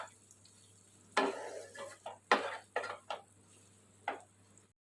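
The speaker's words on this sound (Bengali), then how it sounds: "এখন আমি এর মধ্যে ভেজে রাখা আলুগুলোও দিয়ে মিশিয়ে নেব।" Fried potatoes are stirred into spiced mutton fat in a pan for a potato kosha, heard as a few separate scraping, squishing strokes of a spoon against the pan over a faint sizzle.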